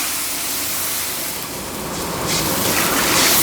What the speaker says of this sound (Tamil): அப்படியே தண்ணியை ஊற்றிடுறது